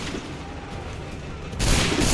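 A musket volley fires in the Assassin's Creed 3 video game, starting as a sudden loud, rough blast of many shots together that follows a quieter stretch of low battlefield rumble.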